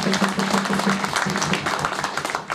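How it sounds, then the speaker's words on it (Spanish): Audience applause at a political rally, with dense, sustained clapping filling the room for a couple of seconds, loud and close, while a voice talks faintly underneath. "de contar con la presencia de Diego Furnell, para quien pido un fuerte aplauso."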